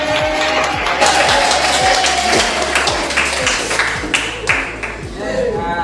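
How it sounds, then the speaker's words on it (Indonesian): Students in a Qur'an lesson applaud: a moderately loud spread of clapping with some sharper individual claps near the end, over a low repeating hum and a few background voices. "Yuk kita beri tepuk tangan."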